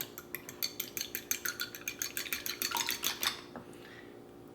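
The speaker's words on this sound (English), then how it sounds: "give that a good whisk with the fork" Fork whisking a couple of eggs in a bowl, a rapid, regular run of about twenty light metallic clicks and taps, close and crisp, slowing and stopping near the end, with no talking.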